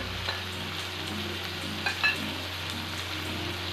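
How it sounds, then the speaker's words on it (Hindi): Peas and carrots frying in a pan make a continuous, close sizzle under a low steady hum, with a couple of brief stirring clinks near the middle. "मटर और गाजर को 2 मिनट के लिए फ्राई करेंगे।"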